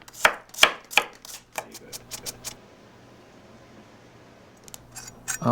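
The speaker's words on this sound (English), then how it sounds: "Now, I've got some garlic, raw cloves of garlic, and I'm going to mince that." Raw garlic cloves are minced with a knife on a board, a quick run of sharp, close chopping taps at the start. A quiet pause follows, then a few more taps come near the end.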